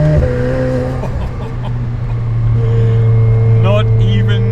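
A McLaren sports car engine pulling away under light throttle, a loud, steady close drone that rises in pitch toward the end, heard from inside the car with some engine whine.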